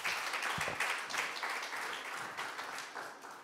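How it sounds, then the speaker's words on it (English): Brief applause from a hackathon audience after a team presentation, a steady, soft wash of many hands clapping at a distance, fading slightly toward the end. "Clap, clap, clap, clap"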